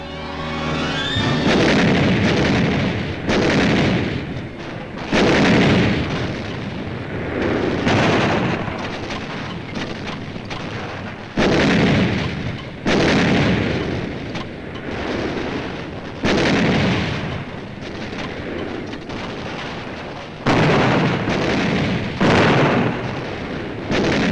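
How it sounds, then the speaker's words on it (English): Artillery fire at the WW2 Battle of Iwo Jima in 1945, a loud continuous rumble of heavy booms rolling one into the next, with repeated blasts swelling every few seconds. "We call for artillery."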